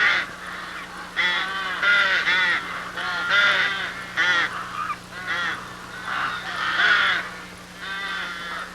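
Rooks cawing at a rookery in treetop nests, many harsh overlapping caws from several birds, continuous and fairly close with a steady low hum beneath.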